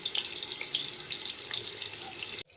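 Tap water runs steadily into a sink while vegetables for a brinjal and potato dish are washed, a close, continuous hiss that stops abruptly at the end.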